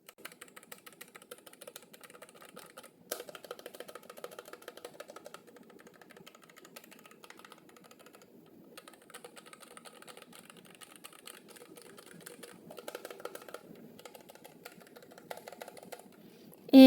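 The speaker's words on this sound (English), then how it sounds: "I'm going to show you guys on the typing, on how it sounds like when typing." Steady, rapid typing on an EWEADN MK84 low-profile keyboard, a dense run of soft, light key clicks at a fairly low level, with a few brief busier bursts and no talking.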